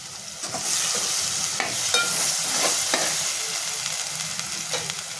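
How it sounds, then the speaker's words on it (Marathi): Fried paneer pieces drop into hot masala and stir-fry with a loud, close sizzle that surges after a brief quiet start, with intermittent spatula scrapes and crackles throughout. "पनीरचे पीस मी टाकून घेणार आहे आणि ते मसाल्यामध्ये परतून घेते"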